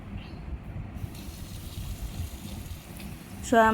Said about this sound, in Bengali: আর সবজিটা আমি এখন ধুয়ে নিচ্ছি।